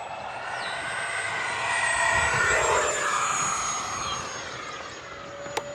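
A Yak 130 model jet with a 70mm ducted-fan engine from FMS gives a steady, loud whooshing roar with a high whine that slowly falls in pitch as it passes, swells, then eases off.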